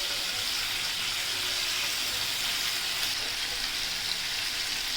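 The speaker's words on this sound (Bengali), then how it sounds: "মাছগুলো একটু ভেজে নিব। দারচিনি, এলাচ, তেজপাতা দিয়ে দিলাম।" Cinnamon, cardamom and bay leaves fry in hot oil with a steady, dense sizzle that holds evenly throughout, close up and without speech.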